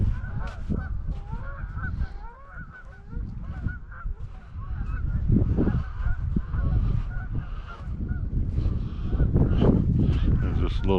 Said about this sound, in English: flock of geese.